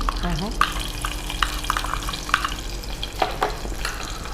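Steady sizzling of onions frying in a pan, with occasional stirring clinks and scrapes; no talking.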